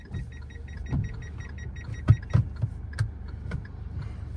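A car's right turn indicator clicks in a steady repeated rhythm inside the cabin during a beginner driving lesson in first gear, the soft ticks faint over low engine hum.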